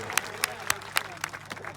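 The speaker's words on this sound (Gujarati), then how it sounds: "એકવાર જોરદાર તાળીઓના ગણગણાટથી આપણે એમનું સ્વાગત કરી લઈએ" Clapping at a village political gathering in Savli to welcome the Dediapada legislator, heard as evenly spaced, fairly faint claps in a steady rhythm over a low murmur.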